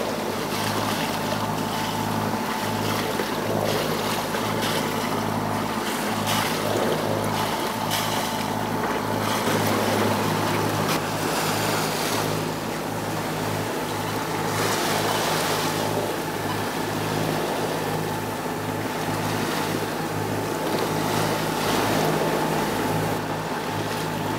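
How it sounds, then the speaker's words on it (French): A sailboat's steady motor drone runs throughout at sea between the Azores and Madeira, blended with rushing wind and sloshing waves, constant and fairly loud without pause. "Fait qu'on est obligé de mettre le moteur justement pour continuer."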